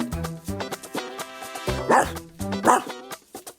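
A cartoon dog in a French animated gingerbread-man story barks in a quick run of short, loud yaps and yips over a bouncy backdrop, close and lively.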